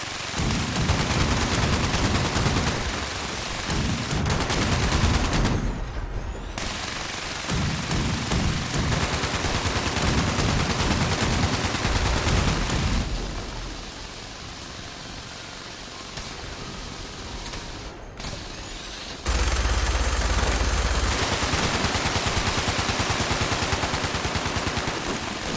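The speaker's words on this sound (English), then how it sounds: "Go ahead and open fire." Bursts of gunfire from Fallout 76 ring out in loud, rapid strings with brief gaps and a quieter stretch before firing resumes, harsh and close, without any talking.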